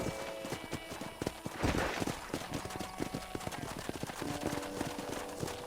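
Rapid clip-clop of horse hooves in Red Dead Redemption, steady and busy, mixed with game sounds and faint background music.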